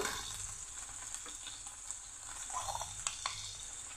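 Teasel gourd fries in a pan as turmeric powder goes in, a soft, continuous sizzling hiss with faint occasional ticks and pops, fairly quiet and without voices.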